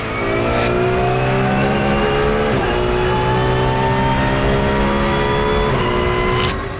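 Porsche race cars running side by side in a racing video game, loud sustained engine howl with shifting pitch and brief tire squeal, close and continuous with no talking.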